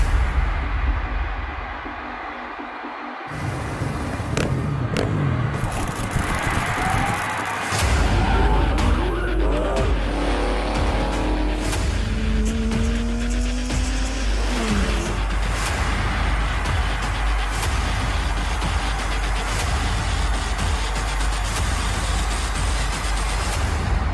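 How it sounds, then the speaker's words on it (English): Speedway sidecar motorcycles race around the dirt oval at Pinjar Park during the Australian Sidecar Championships, with engines roaring loudly and steadily throughout and passing machines rising and falling in pitch. "First Premier Motorcycle Speedway Pinjar Park presents the Australian Sidecar Championships."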